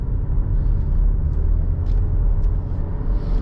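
A 2018 Nissan Rogue SL engine drones as the crossover accelerates, a steady low rumble heard from inside the cabin with no sharp changes in pitch.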